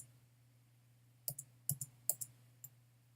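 Several sharp, quiet computer keyboard key clicks, including the escape key, tapped in an irregular burst over a steady low hum, with no talking.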